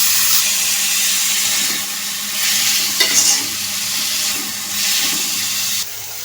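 Chili paste frying for sweet pumpkin in a pan, a loud, steady sizzle with bursts of stirring and spatula scraping up close, continuing for several seconds.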